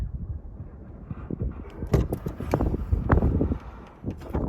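Gusty wind blows outdoors around an RV with its hood propped open, roaring low and uneven, swelling into stronger buffeting gusts midway with rustling and knocking over the steady rumble.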